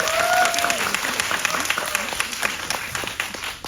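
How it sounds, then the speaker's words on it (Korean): An audience at a film anniversary screening talk with the director and actress breaks into loud, dense clapping that swells early and then tapers off, with a faint voice heard over it near the start. "큰 박수 부탁드리겠습니다."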